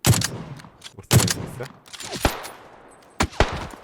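Video game gunfire, with a few loud, sharp shots and short bursts ringing out close by, separated by brief gaps and echoing tails.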